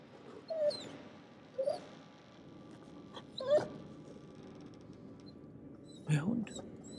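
A dog whimpers in the horror video game The Devil in Me: several short, high, thin whines spaced a second or two apart, heard faintly over a steady game backdrop while a person talks.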